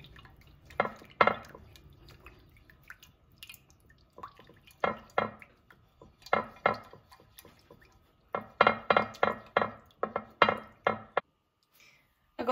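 Rib meat for a honey and orange marinade being stirred in a pot or bowl, giving irregular wet knocks and clatters in short bursts, close and fairly loud, with long pauses between.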